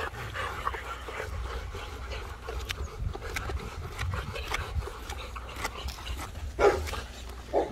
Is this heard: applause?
no